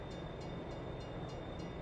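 A train rolls along steadily in Farming Simulator 22, a continuous broadband rumble with faint rhythmic clatter at an even, moderate level and no talk.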